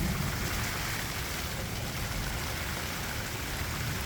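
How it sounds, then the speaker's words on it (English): Heavy rain from a dark storm sky falls in a steady, dense hiss that stays loud and unbroken throughout, with no voices. "Lots of rain."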